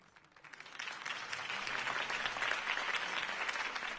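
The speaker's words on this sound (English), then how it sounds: "If only Mr. Wayne, my campaign's largest backer, could have heard that applause" Steady applause from a crowd at a campaign speech in the Batman Telltale game, building quickly after a quiet start and holding at a strong, even level with dense clapping throughout.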